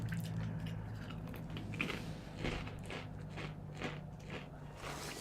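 Thick, crunchy guacamole-flavored chips being chewed close up, a run of quiet crunching bites repeating steadily over a low hum.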